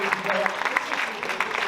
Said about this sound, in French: En tous les cas, applaudissements.